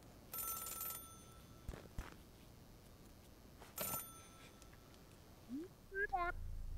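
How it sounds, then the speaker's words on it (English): A payphone rings in the video game Celeste, with two bright bursts of ringing separated by a pause, followed by short chirpy game tones. "An incoming call to a payphone is never a good sign."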